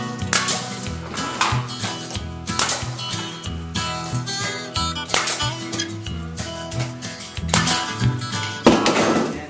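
A nail gun fires repeatedly to secure an angled toe-kick supply register box over a floor vent, giving sharp, loud, close bangs spaced irregularly with clattering handling in between and no talking.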